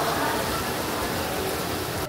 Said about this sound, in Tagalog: Basta ng ulan.